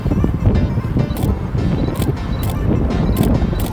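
Wind buffeting a microphone outdoors during a gymnastics fashion photoshoot, a steady low rumbling roar with gusty fluctuations throughout and a few faint clicks on top.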